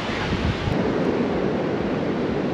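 Strong wind buffets the microphone while Mediterranean waves wash onto a sandy beach in Israel, making a dense, continuous roar with no pauses.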